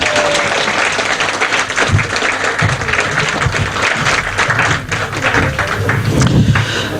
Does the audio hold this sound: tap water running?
no